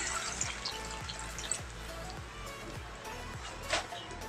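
Water poured from a cup into a cooking pot in a kitchen, a faint trickling and splashing that runs steadily for a few seconds with a small splash near the end, with a voice speaking over it.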